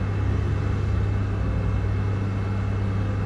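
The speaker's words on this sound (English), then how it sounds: "Now give it a little rev." Food van engine running off its alternator, a steady loud low rumble at close range that holds fairly even with only a slight rise in revs.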